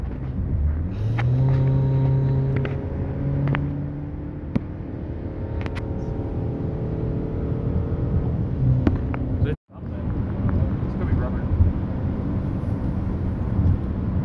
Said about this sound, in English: What's this car doing?